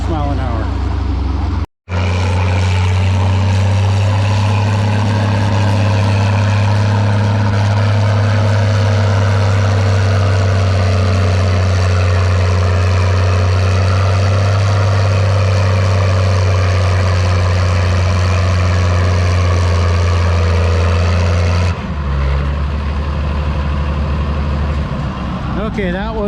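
A 4,000-pound class pulling tractor at a fall tractor pull, likely a Farmall or Allis-Chalmers, roars loud and steady for over twenty seconds after a brief cutoff, with a deep sustained drone that drops away near the end.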